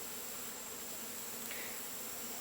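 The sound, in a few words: bees buzzing in a hive log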